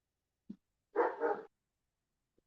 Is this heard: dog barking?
yes